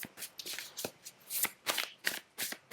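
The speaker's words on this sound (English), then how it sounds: "Then I'm going to draw a card from my Shaman" Shaman oracle cards being shuffled by hand, a close, soft riffling of card stock in repeated quick bursts with no talking.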